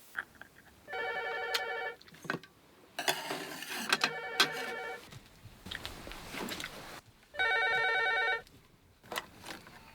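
Repeated bursts of an old telephone bell ringing in a remote mountain home with no electricity or running water, several distinct rings separated by pauses, close and loud, with faint handling noises between them.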